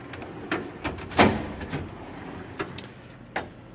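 A drawer on an Okamoto 8 x 20 inch cylindrical grinder is pulled open, giving a few separate metallic clunks and slides at close range, with quiet gaps between them and no talk.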